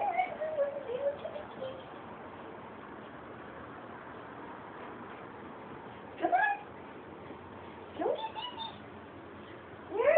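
Chubby cat giving a few soft, drawn-out meows spaced several seconds apart, faint and close in an otherwise quiet room.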